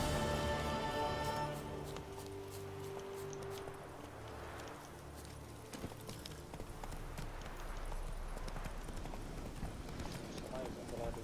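Horse hooves clip-clopping in The Witcher video game, a steady trotting rhythm under game ambience and background noise.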